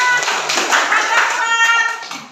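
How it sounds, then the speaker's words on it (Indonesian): Children in a classroom clap their hands together in a brief burst of applause, the claps overlapping with young voices and chatter. "Kasih tepuk tangan untuk tebak."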